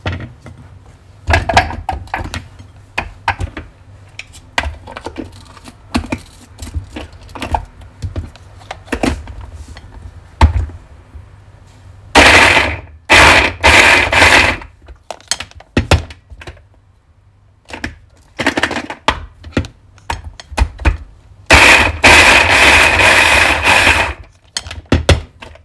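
Beetroots are chopped coarsely, likely in a food processor: bursts of whirring blades alternate with short pauses and clunks, running loud and close.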